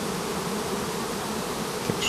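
Millions of honeybees from a beekeeper's hives buzz in a dense, continuous drone, loud and close throughout, with no voices.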